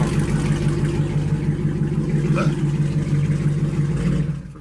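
A car fitted with mid pipes gives a loud, close, steady engine rumble that holds evenly and then cuts off abruptly at the end.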